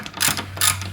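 Bolts being loosened on a Yamaha Ténéré 700 motorcycle, giving two close ratcheting, clicking bursts of a hand wrench over a steady low hum.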